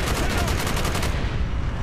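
A rapid burst of automatic gunfire in Call of Duty: Black Ops, dense and loud, rattling for about a second before trailing off into a lingering rumble.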